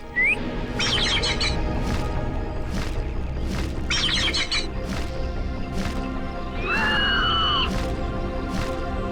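Birds chirp and warble in quick repeated bursts over a busy, noisy background, with several short trilled phrases and a rising whistled call standing out clearly.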